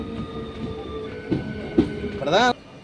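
A train on the Chengannur to Ernakulam route rumbles along with a steady hum, a couple of clanking knocks and a rising metallic squeal near the end, fairly close.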